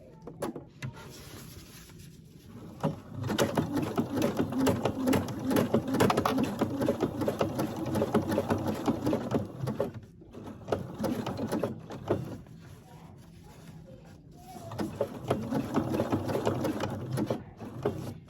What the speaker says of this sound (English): I'm going to start sewing over here. I'm going to use a triple stitch zigzag.